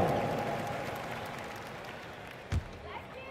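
An arena crowd in the NBA 2K22 basketball video game keeps up a broad, steady roar, loud throughout, with one brief thump near the end and voices talking over it.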